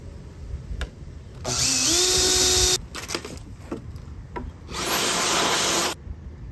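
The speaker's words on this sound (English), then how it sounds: "now we'll drill the hole, and then we can attach this drawer to the slides finally" A power drill bores a hole through wood for drawer slides on a DIY camping bed platform, two loud sustained bursts with a rising motor whine, separated by brief handling noises and clicks.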